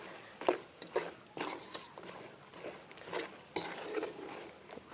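Chicken pickle is stirred with chili powder, salt and masala in a pan, giving a few close scraping clinks of utensil on metal and soft stirring shuffles at an irregular rhythm.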